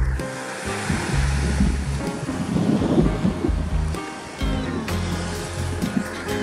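Early-summer surf on the Sea of Japan under a light onshore breeze, waves washing and breaking steadily with wind buffeting the microphone.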